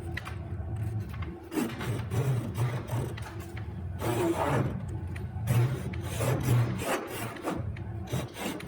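Hand saw cutting dovetail pins in a wooden board, steady rasping strokes close up, short at first and then longer and fuller, repeating rhythmically with brief pauses between strokes.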